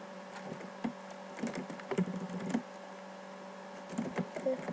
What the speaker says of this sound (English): okay, let me type it.